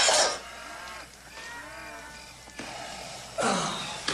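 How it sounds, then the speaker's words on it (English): Cattle on a Western trail drive low faintly in the distance, with a few indistinct calls spaced out across a quiet night background. "all that mooing going on"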